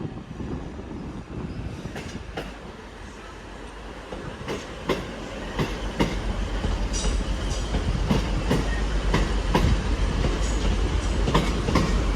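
British Rail Class 156 diesel units, with a Class 150 coupled at the rear, roll into Manchester Piccadilly with a steady rumble and a regular series of clicking wheel beats over rail joints that grows gradually louder.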